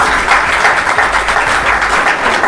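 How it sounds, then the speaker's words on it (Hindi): A crowd at a school gathering applauds a top-ranking board exam student, a loud, dense, steady burst of many hands clapping close by, with no talk over it. "उसके लिए तालियां"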